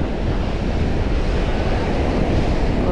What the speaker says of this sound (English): Wow, look at these waves, bro. Crazy windy out here.